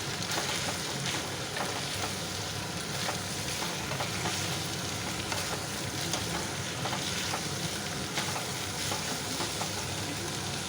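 Ginger garlic paste frying in a pan, a steady loud sizzle running throughout, with faint scraping stirs now and then.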